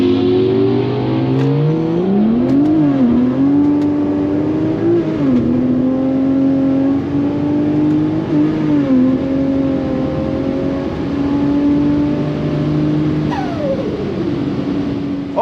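A Ford Territory AWD with a Barra engine launches hard on Michelin Primacy SUV street tyres at a drag strip, about 3.5 psi of boost. Loud, steady engine roar climbs through gear changes, close and continuous throughout.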